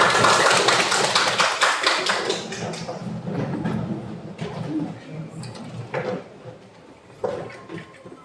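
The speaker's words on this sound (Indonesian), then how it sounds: "Tepuk tangan untuk kita semua." A classroom of students claps together in a quick, dense patter that gradually thins and fades, with a few scattered claps and knocks near the end.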